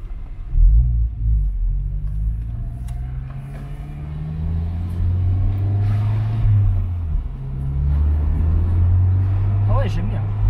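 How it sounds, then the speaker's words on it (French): A turbocharged car engine runs from inside the cabin, a low steady rumble swelling as it accelerates, with a faint whistle near the end, under ongoing conversation. "C'est un turbo."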